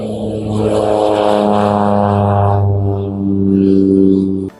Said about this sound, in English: You could hear the sounds of small aircrafts taking off and landing.